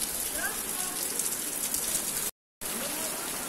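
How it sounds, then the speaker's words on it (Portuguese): Heavy rain pours steadily in Gravatá, a dense, loud broadband wash of falling water heard through an opened door, continuous apart from a brief dropout near the end. "que coisa linda é essa chuva, tá? Aqui em Gravatá. Muita água mesmo."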